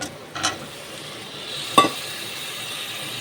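Boiled potatoes drop into a pan of sizzling biryani masala, with a soft thud near the start, a sharper clatter after, and a steady low fry hiss between.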